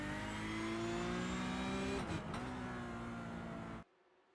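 A Porsche Cup race car's engine at Spa, heard from the onboard cockpit camera: a loud, steady, high-revving drone that dips briefly partway through, then cuts off abruptly near the end.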